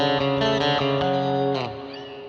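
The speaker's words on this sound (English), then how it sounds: "I'm going to add just a simple reverb," An electric guitar played through a Quad Cortex with a hall reverb rings out in a few distorted chords, the last one fading into a washy reverb tail.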